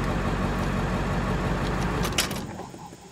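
A vehicle engine idles after a Hydra tuner programming change, a steady low rumble running close and even, then a brief jingle of keys as the engine shuts off and the sound drops away near the end.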